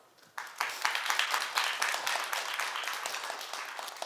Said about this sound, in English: Let's take a moment to give each other a round of applause.